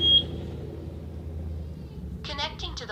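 A smart lock gives a short high electronic beep at the start as its sync button is pressed, then a low steady hum; a voice begins speaking near the end.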